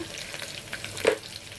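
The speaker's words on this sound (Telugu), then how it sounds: "పోపు ఇలా బాగా కొద్దిగా వేగాలండి" Tempering spices, chopped onion, curry leaves and a pinch of turmeric frying in hot oil for a leafy-greens dal, giving a close, continuous sizzle with a brief louder crackle near the end.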